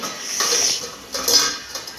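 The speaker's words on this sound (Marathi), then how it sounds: "आणि ही अशी चाळण ठेवायची आणि ह्याच्यावर मग असं ठेवायचं हे" Metal pot and steamer sieve set in place for steaming modak clink and clatter in a few close, bright knocks with short scraping between them, and nothing else is heard.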